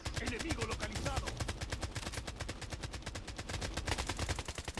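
Rapid automatic gunfire in the mobile shooter BloodStrike, loud steady bursts of shots repeating without pause across the whole stretch, with a faint voice underneath.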